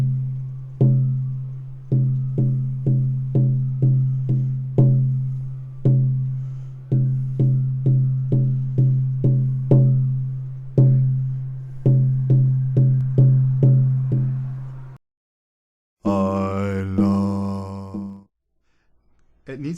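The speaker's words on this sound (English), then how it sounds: "here's the sound of those 3 runes being drummed." A shamanic drum is struck in groups of resonant booming beats, with a steady pattern repeating for about fifteen seconds, followed by a short spoken or sung voice.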